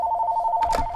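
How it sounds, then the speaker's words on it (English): A telephone rings in a room during a Daxter PSP gaming session, a steady, loud electronic ring held throughout, with a short burst of noise near the end. "Sorry about the phone there, ladies and gentlemen."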